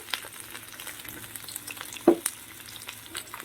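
Pointed gourd (potol) pieces, packed tightly in a pan, fry with a steady close sizzle. A few sharp clicks and scrapes of a utensil against the pan cut through it, and no one speaks.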